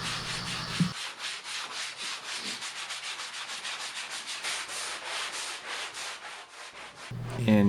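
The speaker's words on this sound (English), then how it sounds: "in between coats, I used a 220 grit sanding sponge" A 220 grit sanding sponge is rubbed back and forth over a whitewashed wooden dining room table between finish coats, producing a close, steady rhythmic scratching of repeated strokes.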